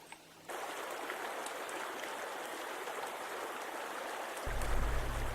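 Flint Creek rushes at a stream crossing in the Weminuche Wilderness, a steady, fairly close broadband water roar that starts abruptly and continues unbroken, with a lower rumble joining near the end and no voices.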